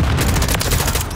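Dense automatic gunfire in a Call of Duty match, a continuous close rattle of rapid shots with heavy low rumble and no breaks, loud throughout.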